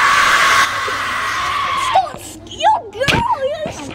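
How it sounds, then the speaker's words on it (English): Loud, close frightened screaming from a person in a game session, starting with a long sustained shriek, then breaking into wavering, pitch-sliding yells. "You're screaming like a girl!"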